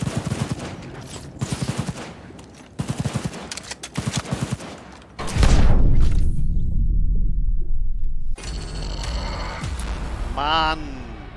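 A car explodes with a deep booming blast amid gunfire in the video game Cyberpunk 2077, following rapid bursts of shots, with debris and fire rumbling afterward.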